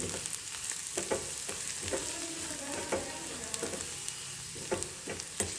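Green chickpea leaves frying with turmeric, coriander-cumin and cumin powder in a pan, giving a soft continuous sizzle broken by regular spatula scrapes and clicks, fairly close and alone.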